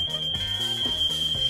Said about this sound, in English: Yep, that's the fire alarm.